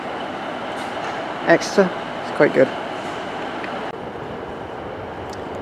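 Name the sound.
three-car train at Exeter St David's station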